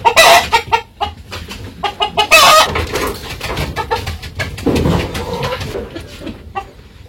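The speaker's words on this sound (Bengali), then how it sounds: "আর একটা মুরগ রয়েছে।" A village rooster and hens cluck loudly and close by in rapid, uneven bursts, with a short crowing call among the clucks.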